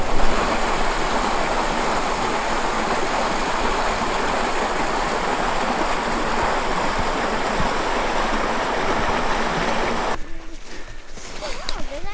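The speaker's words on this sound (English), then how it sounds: "We just found a little clearing where the water is still kind of flowing down" Water flows and splashes in a continuous rushing wash at the top of a mostly frozen Cataract Falls in winter, steady for most of the stretch before dropping away near the end.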